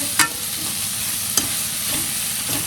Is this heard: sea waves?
no